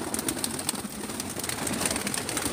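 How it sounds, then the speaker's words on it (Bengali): Many pigeons coo inside a large loft with cabinet-style housing. Soft, overlapping coos repeat in a steady rhythm over a constant airy background hiss, with no talking. "অনেকগুলোই পায়রা আছে এখানে"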